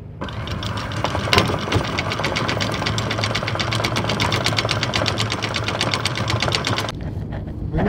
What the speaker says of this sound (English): I'm glad our engine got us to the anchorage.